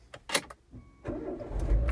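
The 1.6 engine of a Renault Megane Grand Tour is started by push button: a brief starter whir, then the engine catches and settles into a steady idle nearby.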